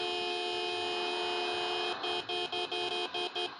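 A vehicle horn sounds close and loud, first as a sustained steady blast, then as a rapid run of short repeated honks.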